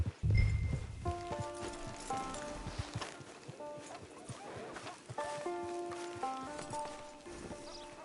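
Horse hooves clip-clop while riding in the Red Dead Online video game, soft irregular hoof thuds beneath game music with sustained tones, after a loud low thump at the start.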